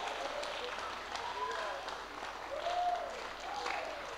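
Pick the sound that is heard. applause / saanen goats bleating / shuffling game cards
applause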